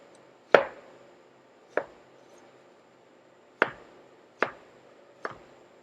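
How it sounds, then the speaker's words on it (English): French knife chopping food on a cutting board: five sharp, separate thuds at irregular intervals, close and clear against a quiet background. "We're going to take our French knife. We're just going to get these guys cut up quick"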